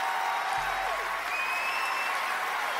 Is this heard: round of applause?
yes